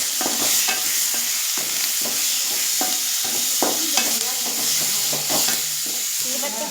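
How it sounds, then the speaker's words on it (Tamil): Onion, tomato, curry leaves and green chillies fry in oil, a continuous close sizzle broken by repeated scraping stirs of a spoon against the pan, with no talk. "கொஞ்சம் எண்ணெய், வெங்காயம், தக்காளி, கருவேப்பிலை, பச்சை மிளகாய் இதெல்லாம் போட்டுடலாம். போட்டு நல்லா வந்து வதக்கணும்."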